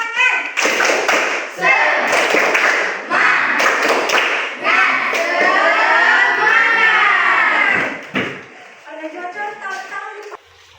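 A class of children does a rhythmic Indonesian spirit clap, quick patterned bursts of hand claps and taps ringing loud and close, with a short chant-like vocal stretch in the middle and fainter claps trailing off at the end.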